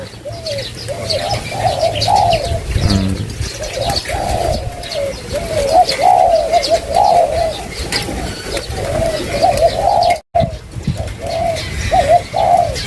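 A decoy dove coos repeatedly during training, a loud, steady run of rhythmic coos close by over constant outdoor background noise, with a brief dropout near the end.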